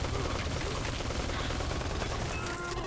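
Rapid, dense SMG fire in the video game Neon Chrome, a continuous loud burst of gunshots that barely lets up across the short span.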